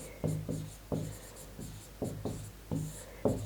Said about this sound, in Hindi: मैं इसे भी इधर ही लिख देती हूँ